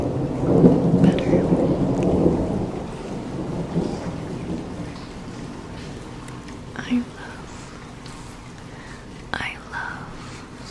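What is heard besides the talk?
thunderstorm with rain heard through an open glass door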